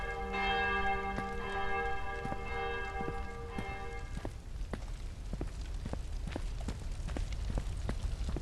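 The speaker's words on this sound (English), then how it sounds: "soon the town bells chimed aloud" Town church bells chime in the video game XING: The Land Beyond, ringing out in steady, resonant strokes for a few seconds before fading, followed by a series of soft, evenly spaced footsteps.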